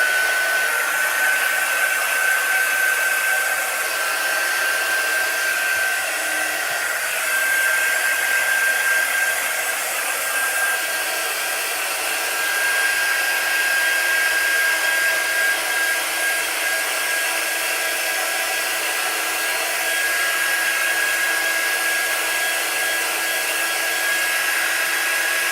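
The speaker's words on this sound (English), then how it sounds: "let's get out a quick dry tool" A hair-dryer-style quick dry tool blows over wet chalk, a steady, close whirring roar with a faint high whine, running without pause and alone.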